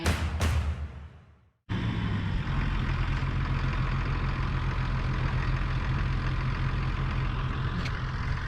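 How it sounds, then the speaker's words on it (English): A heavy tractor engine rumbles steadily and close by on a farm, a low diesel drone that holds constant after a brief drop-off near the start. "He's bringing up the loading tractor."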